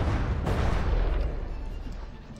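A deep rumbling explosion booms in the naval combat game From the Depths as a warship is blown apart, a loud low roar that swells and then slowly fades, with no voices.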